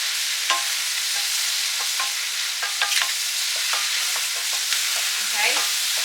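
Bok choy stir-fries in a hot pan, a loud, bright, steady sizzle with repeated crisp taps and scrapes from the spatula tossing the greens, close up with no voices.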